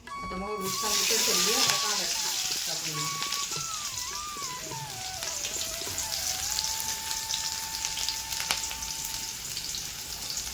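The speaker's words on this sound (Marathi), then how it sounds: "आता टाकून घेते आई कांदा." Onion dropped into hot oil in a pan for a potato and brinjal mixed vegetable bhaji, a steady loud sizzle and crackle that runs throughout, with someone talking over it.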